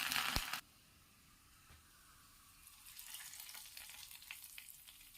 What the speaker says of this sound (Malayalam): അതിന് ശേഷം കടുക് ഇട്ട് കൊടുത്ത് കടുക് പൊട്ടിയ ശേഷം ചുമന്നുള്ളിയും കരിയാപ്പിലയും ഇട്ടൊന്ന് മൂപ്പിച്ച് കറിയിലേക്ക് ഒഴിച്ചു കൊടുക്കാം